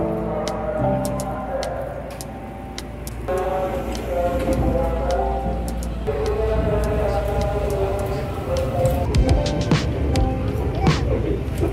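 A KRL commuter train ride in Jakarta: steady low rumble of the moving carriage with clattering tones and occasional ticks, people talking throughout over the continuous rolling noise.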